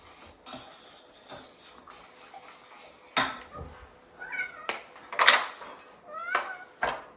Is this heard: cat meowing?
yes